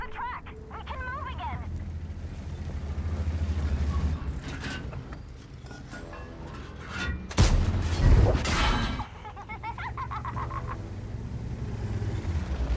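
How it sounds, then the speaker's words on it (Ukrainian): Heavy tank cannon fire booms in a loud burst during a World of Tanks battle with a Lorraine 50 t, amid rumbling game sounds and someone talking over the action. "По мені ж стріляють."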